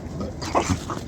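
A small dog gives a couple of short, high whimpers close by, over a soft background hiss.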